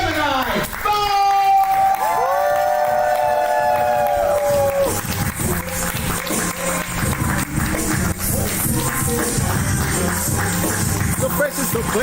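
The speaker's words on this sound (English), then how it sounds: "clap it up for Grow House's own Gemini" A poetry slam audience cheers and whoops loudly for a poet, with broadband crowd noise and clapping running steadily throughout, along with a few sung or called-out tones near the start.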